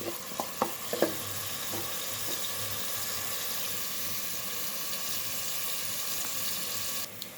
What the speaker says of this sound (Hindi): और ये हमने फुल फ्लेम पे प्याज को लाइट ब्राउन करना है।